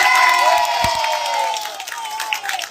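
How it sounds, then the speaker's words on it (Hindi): Crowd at a Baitulmal Kelabagan gathering announcing free admission fees applauds loudly for the committee: a dense wash of clapping and cheering, mixed with tonal voices, that carries on for about three seconds. "एक बार हमारे कमेटी के लिए जोरदार ताली हो जाए"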